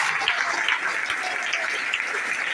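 Audience clapping, a lively, close and fairly loud round of applause that holds steady throughout, with no voices on top.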